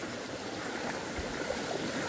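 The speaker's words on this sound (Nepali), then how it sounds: "पानी त आज त ठुलो आउँदो रहेछ त" Strong water flow through a rice paddy on the last day of monsoon planting, a steady broadband rush that stays constant and close throughout, with no voices.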